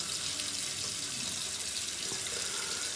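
Steady running tap water splashing into a sink during face washing before a shave, close and continuous for the whole moment with no talking.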